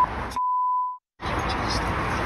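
A steady censor bleep tone covers a taxi driver's insults, cutting in mid-argument, holding about half a second, then breaking to brief silence before voices and street noise resume.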